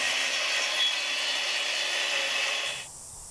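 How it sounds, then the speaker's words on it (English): A power saw cuts siding sheets into panels for a backyard chicken coop, a loud continuous high whine close up that cuts off near the end, leaving quiet; no one speaks. "I started cutting the sheets into their needed panels"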